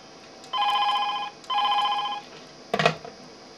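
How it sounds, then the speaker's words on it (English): A PABX W4P300 intercom station rings in two clear electronic bursts of about three-quarters of a second each, close and loud, followed by a brief clatter as a handset is lifted. "So now I can dial another station just with 1 digit."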